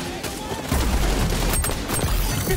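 Rapid gunfire in the shooter video game xDefiant, a loud sustained fusillade of close shots with sharp cracks and a low rumble, a voice talking over part of it.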